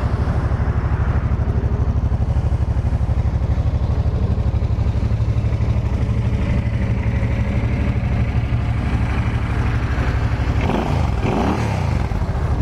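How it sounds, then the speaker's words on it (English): A 2005 Suzuki C50 Boulevard motorcycle with its factory exhaust idles steadily and quietly up close, a low even pulsing throb that holds throughout, with a brief shift in tone near the end. "I think I'm going to need to pull the clutch in to crank this bike."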